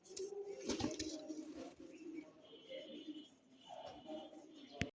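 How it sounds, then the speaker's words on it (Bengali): A pair of red Bombai pigeons coo softly in low, murmuring phrases against quiet background noise, faint and close. "দর্শক এই মুহূর্তে দেখতে পাচ্ছেন রেড কালারের মধ্যে একজোড়া বোম্বাই কবুতর"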